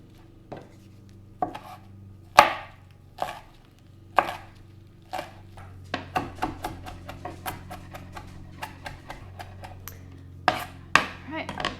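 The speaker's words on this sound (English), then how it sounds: "Put it in with the basil before I start chopping." A knife chops garlic and basil on a cutting board, first in a few spaced sharp knocks, then in a quicker, irregular run of close, crisp strikes.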